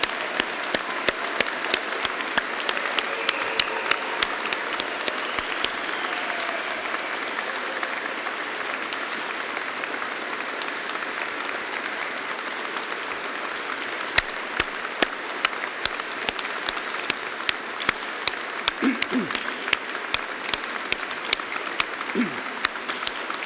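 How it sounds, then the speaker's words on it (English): Sustained audience applause for graduates at a degree ceremony in Ely, steady and dense throughout with a few louder individual claps near the end, no talking. "giving them a huge round of applause."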